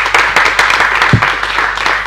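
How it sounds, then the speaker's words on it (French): Audience applause at a youth talent competition elimination round in Côte d'Ivoire, a dense, steady wash of clapping throughout with a brief low thump partway in. "Ça mérite des applaudissements"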